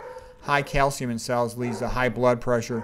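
Dogs bark and yip in the background while a person lectures steadily in the foreground, the barking staying under the talk.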